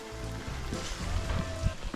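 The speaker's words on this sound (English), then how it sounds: "it has been raining all day long" Steady rain falls all day on a homestead, a soft continuous patter with scattered nearby drips, fairly faint and unbroken by any talk.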